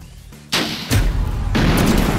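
Weapons fire in Splatoon 3 during a Tower Control match: after a quieter start, loud booming blasts and rapid bursts of shots pile up close and continue to the end.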